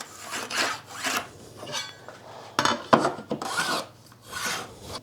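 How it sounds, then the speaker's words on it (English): Jigsaw cutting through a wide wooden board, heard as loud rasping strokes in bursts with short pauses and a sharp knock midway, close by and with no talking. "if you're wondering why we made that cut with a jigsaw"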